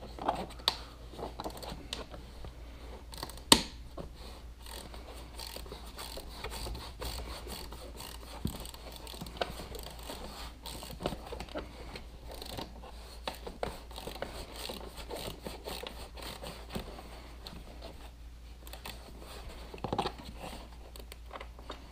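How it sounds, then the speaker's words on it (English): A small ratchet with a bit turns a bolt at the back of a Can-Am Spyder RT, giving faint, close, intermittent clicking and light mechanical taps over a quiet room, with one sharper knock early on. "it's best if you have a small ratchet that you can put a bit into"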